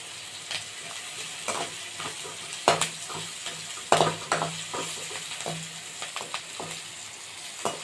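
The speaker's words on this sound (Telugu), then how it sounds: "కొంచెం చిటికెడు పసుపు వేసుకుని ఇవి కూడా బ్రౌన్ కలర్ వచ్చే వరకు వేయించుకోవాలండి" Onions with a pinch of turmeric fry toward light brown in a pan, a soft steady sizzle broken by repeated sharp scrapes and knocks of a spatula stirring close by.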